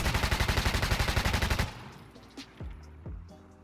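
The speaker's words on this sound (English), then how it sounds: "I'm gonna test the Tavor full auto, 20 rounds, no control" Full-auto fire from a Tavor rifle in a video game: a tight, rapid burst of about twenty loud, evenly spaced shots lasting under two seconds, then a sudden stop followed by a few faint clinks and thuds.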